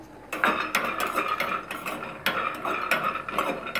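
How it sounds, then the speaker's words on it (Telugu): Peanuts rattle and scrape as they are dry-roasted and stirred in a pan, with repeated bursts of clattering and spoon-on-metal scraping in an uneven rhythm, close and fairly loud. "చిన్న ఫ్రెండ్స్, మనం ముందుగా పల్లీలు వేపేసుకుందాము."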